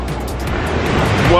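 Surf rolls into a small cove at Hamoa Beach on the road to Hana, a continuous close wash of waves with wind that grows slightly louder toward the end.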